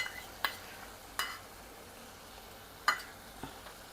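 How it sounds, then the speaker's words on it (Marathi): Yogurt being whisked in a pan over low heat for a bottle gourd and moong dal curry, a few sharp scraping clicks of the utensil against the pan spaced over a quiet background. "दही घातल्या घातल्या लगेच फेटून घ्यायचं आहे"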